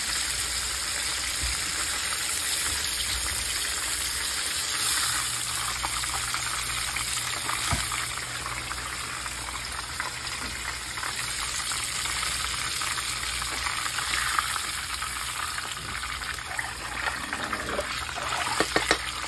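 Fried fish being lifted out of hot frying oil, with a steady loud sizzle and bubbling hiss that holds throughout, the oil crackling on without a pause.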